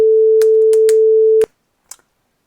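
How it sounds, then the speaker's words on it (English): A simple 440 Hz oscillator tone, halved in level, holds as one steady pure pitch for about a second and a half before cutting off, with a few faint clicks over it and a brief soft noise after the stop. "let's just set up a simple oscillator, 440"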